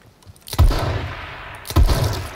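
Two loud, close gunshots in the battle royale game H1Z1 King of the Kill, roughly a second apart, each with a heavy low thump and a short ringing tail, no talking.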